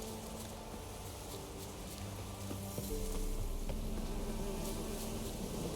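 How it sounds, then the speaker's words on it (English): Bees buzz continuously in The Witcher 3, a dense insect drone that holds steady for several seconds and grows a little louder midway, with no speech over it. "Death to bees."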